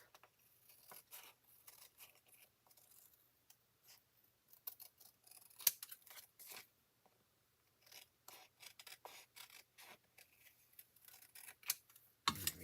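Scissors trim card paper in a quiet craft setting, a series of short crisp snips and cuts arriving in irregular bursts, close and fairly soft, with no talking.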